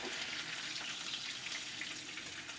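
Old wife fish fries in a pan with a steady, dense sizzle that holds at an even level throughout. It is close and fairly quiet, with no talking.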